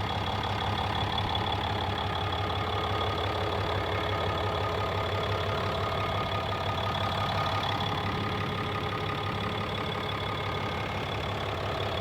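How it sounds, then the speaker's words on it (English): A 2016 RAM 2500 HD Tradesman's 6.7-liter Cummins turbo diesel idles in a steady, even, low rumble with a faint ticking clatter, moderately quiet and unchanging for the whole stretch, with no voices. "Really smooth running idle"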